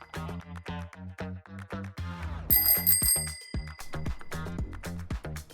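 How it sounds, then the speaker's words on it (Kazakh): A bicycle bell rings with bright, sustained chimes at close range, sounding amid a steady rhythmic backing beat in a children's segment about vehicles. "Велосипед."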